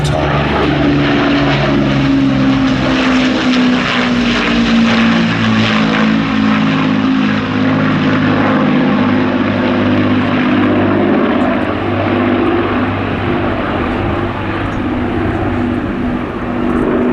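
Avro Lancaster bomber of the Battle of Britain Memorial Flight at the Midlands Air Festival drones past on its propeller engines, a loud continuous throbbing roar with slowly shifting pitch throughout.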